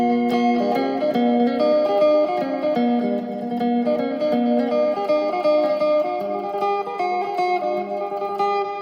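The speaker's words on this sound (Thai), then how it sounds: "ดีเลย์บวกรีเวิร์บครับเสียงจะออกนุ่มๆนุ่นๆใส" A Thai phin lute is played through a Tank G effects unit with delay plus reverb, giving a continuous melodic line with sustained, smeared notes and a soft, clear wash that fills the whole stretch without talk.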